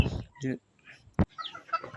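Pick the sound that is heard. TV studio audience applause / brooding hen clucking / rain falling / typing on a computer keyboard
brooding hen clucking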